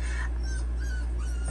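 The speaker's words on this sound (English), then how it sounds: "That's the puppy." A puppy whimpers in a few faint, thin whines over a steady low hum, with no talking.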